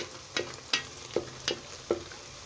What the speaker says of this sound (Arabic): لسه مستمرين حبايبي في تحمير البصل عشان ياخد اللون الحلو